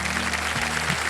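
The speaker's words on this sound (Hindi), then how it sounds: "तालियां बज जाए इनके लिए।" An audience at the KBC Season 17 quiz show set applauds a departing contestant, a steady wash of clapping across the whole moment with a low musical tone sustained underneath.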